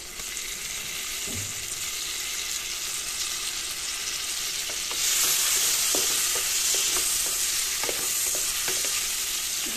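Four turmeric- and salt-coated fish pieces fry in hot oil over low heat, giving a steady close hiss with scattered spatters and light scraping stirs that grow slightly louder partway through; no one speaks.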